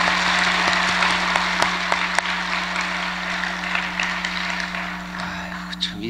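A church congregation at Seonam Church claps for elementary-school children during a dawn service, a scattered, moderately quiet round of applause with sharp individual claps over a steady electrical hum in the room.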